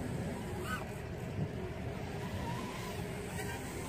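A Zing 110 FPV drone fitted with 2.3-inch Avan Babyhawk propellers punches out, its motors giving a rising, whining roar that stays strong and steady over a few seconds.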